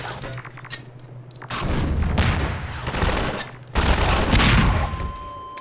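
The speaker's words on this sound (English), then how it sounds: "Why are they shooting at me?" Gunfire in the video game Half-Life 2, with sharp shots and then two long, loud stretches of sustained shooting and booming impacts, close and intense.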